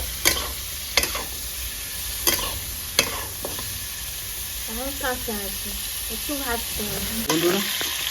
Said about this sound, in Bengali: ফুলকপিটা ভালো করে করতে হবে একটু ভাজা ভাজা হবে